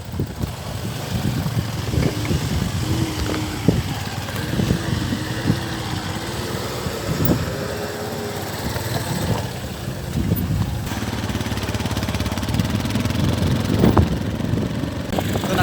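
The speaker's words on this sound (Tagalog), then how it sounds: "So naka-decide ko nga magsakay kog motor." Motorcycle engine running steadily on a rural trip in Sanggaya, Talakag, Bukidnon, a continuous close droning rumble with shifting pitch throughout, no talk.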